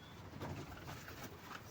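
Birds call faintly inside a cave full of nests with chicks, soft repeated cooing notes over a hollow, echoing background, no one talking.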